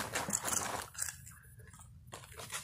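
Crunchy chips bitten and chewed close to the mic, a burst of loud, sharp crunches followed by softer chewing with the mouth closed, then a few more crunches.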